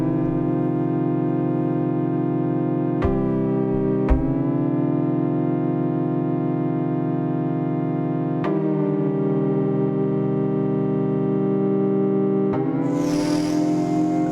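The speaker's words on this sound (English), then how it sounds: "So here's the portamento." A Roland AIRA System-1 synthesizer plays a sustained buzzy lead with portamento, gliding between pitches at several points, washed in delay and reverb, with a bright noisy swell near the end and no talking.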